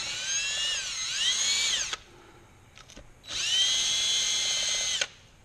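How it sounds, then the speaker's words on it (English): A cordless drill spinning an abrasive disc whines at high speed in two long bursts with a short pause between, the pitch dipping briefly under load, close and loud. "just put that on your little cordless drill"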